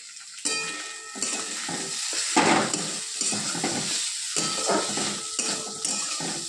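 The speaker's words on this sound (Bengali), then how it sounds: "এইখানে হচ্ছে আলু ভাজা" Potatoes frying in a pan make a loud, bubbling sizzle, broken by repeated bursts of stirring and scraping against the pan, close and without talk.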